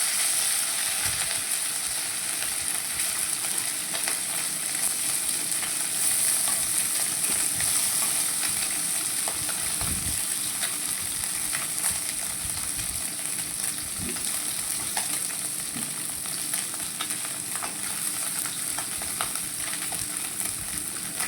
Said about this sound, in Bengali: এবার আমি আমুলি মাছটা ভাজা বসিয়ে দিয়েছি